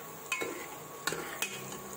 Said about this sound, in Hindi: ये प्याज हो रहा है, थोड़ा और गुलाबी हो जाए फिर ये जाएगा।